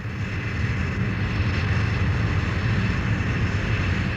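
A Jaguar jet aircraft flying home to Preston roars with a steady, loud, continuous engine drone that holds evenly throughout, with no talking.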